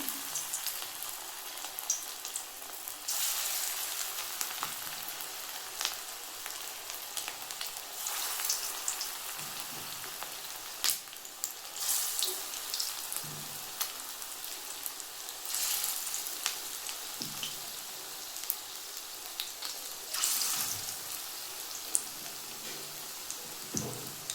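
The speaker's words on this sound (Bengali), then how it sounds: "দেখুন তেলটা আমার গরম হয়ে গেছে আমি এবারেতে বড়ার আকারে দিয়ে দেবো" Small shrimp pakora fritters of kucho chingri frying in hot oil over a low gas flame, a steady soft crackling sizzle with bursts of louder spattering, close and continuous with no talking.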